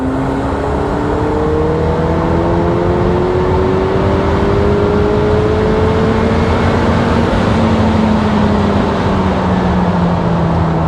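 A McLaren 720S accelerates hard in fifth gear, its engine a loud, continuous drone with a slowly rising pitch and heavy road and wind roar throughout.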